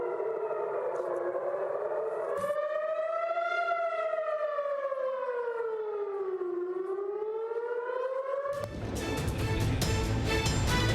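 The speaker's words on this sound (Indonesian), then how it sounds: "Sirine pertahanan bergema di langit malam Israel." A loud civil defense air raid siren wails over Israel at night during an Iranian missile attack, its pitch slowly rising and falling in long sweeps, before a burst of harsh broadband noise cuts in near the end.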